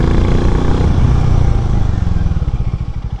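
A 440 cc motorcycle brakes hard on its front brake over gravel: the loud engine note drops and clatters, then settles into slow, throbbing low pulses as the bike slows.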